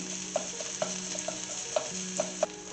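Garlic and ginger sautéing with bell peppers and other vegetables in a pan for Kara-Tur noodles, a steady sizzle under regular clacks of a utensil stirring and tapping the pan, close and moderately loud, with no talk.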